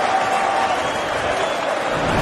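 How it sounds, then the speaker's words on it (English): Darts match crowd giving a steady, moderate ripple of applause in a large arena, a dense wash of clapping with faint cheering mixed in, continuous for the whole moment. "And sportingly applauded by the crowd."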